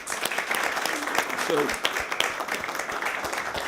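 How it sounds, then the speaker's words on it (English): Audience applause at a Tampa City Council workshop, a steady patter of clapping from many hands in a meeting room, moderately loud throughout, with a brief spoken word from a man over it. "let's first give these great American heroes a round of applause"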